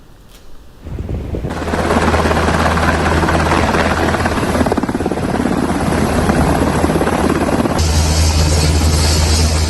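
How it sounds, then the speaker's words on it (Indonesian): A military helicopter landing on a hospital helipad roars loudly and steadily up close, rotor and engine building to a sustained thrumming whine with wind buffeting, no voices. "Helikopter militer Zionis Israel mendarat di landasan helikopter rumah sakit untuk mengevakuasi tentaranya yang terluka"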